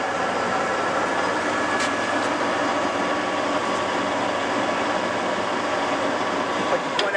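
A TOS 16 x 41 lathe runs steadily at 355 RPM, giving a constant mechanical hum and whir with faint intermittent ticks, close and unbroken throughout.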